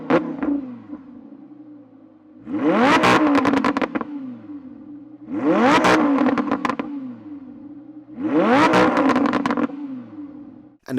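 A powerful car engine idles with a steady rumble, then revs hard three times in regular bursts, each rising sharply and falling back to idle.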